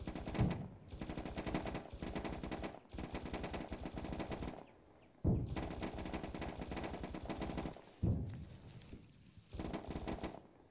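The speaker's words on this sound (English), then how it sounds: "They're firing right at us." Sustained bursts of automatic machine gun fire in a military video game, loud and close, coming in long rattling volleys separated by brief pauses.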